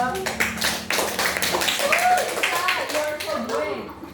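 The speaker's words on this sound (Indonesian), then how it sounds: "Boleh kasih tepuk tangan ke Lisa?" Applause for a student named Lisa in a micro-teaching classroom session: a few seconds of scattered, uneven hand clapping from a small group, fairly close, with voices talking over it throughout.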